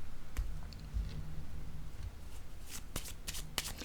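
A deck of tarot cards being shuffled, with soft riffling rustles and a few sharp clicks and taps of cards toward the end, recorded close and quiet with no talk.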